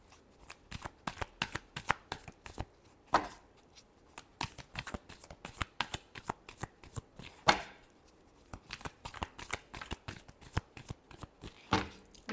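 Tarot cards being shuffled by hand, a quick run of crisp riffling flicks and taps with short pauses between bursts, close and fairly quiet with no talking.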